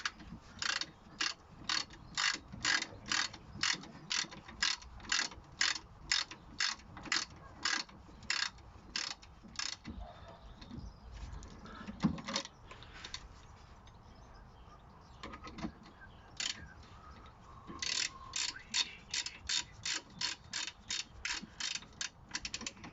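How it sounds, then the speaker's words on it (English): A ratchet with a 17mm socket tightens the brake caliper bolts during a disc and pad change, giving runs of quick, regular clicks that pause mid-clip and then resume, close and clear with no talking. "You want to get yourself your 17mm socket on your ratchet and tighten up your caliper."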